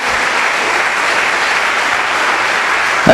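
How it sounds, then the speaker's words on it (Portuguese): Congregation applauding loudly during a Portuguese-language church program, a steady wash of many hands clapping close and strong for about three seconds. "As palmas para ele bem forte."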